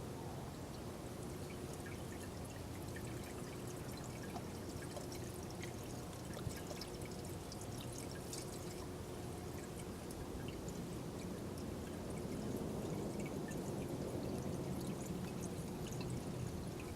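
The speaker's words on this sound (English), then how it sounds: "let it run for probably like 5-7 minutes, and then drain the oil." Engine oil drains steadily from a Nissan S15 SR20DET motor during a flush, as a continuous pouring, trickling stream runs unbroken and fairly close.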